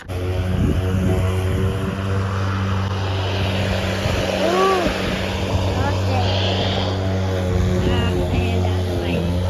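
An Ego 21-inch 56-volt battery lawn mower runs on a lawn with a steady, close, droning hum that holds level throughout, while someone talks over it.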